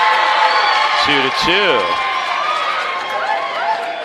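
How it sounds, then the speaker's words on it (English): A high school volleyball crowd in a gym makes a steady, moderate murmur of cheering and chatter, with a commentator's voice talking over it. "Annalee crowd making a little noise now"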